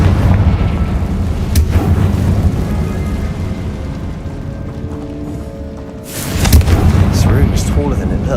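A Confringo blasting spell goes off in Hogwarts Legacy, a loud booming explosion with a rumbling tail, followed by a second heavy burst as the game's ambient score and effects continue.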